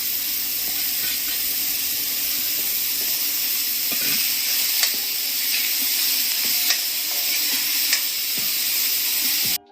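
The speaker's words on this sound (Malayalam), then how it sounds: "ഇതിലേക്ക് ഈ മുറിച്ച് വെച്ച പപ്പായ ഇട്ട് കൊടുക്കുക." Chopped papaya sizzles and hisses steadily in a hot pan with onion, a continuous close frying noise with a few faint clicks and no talking.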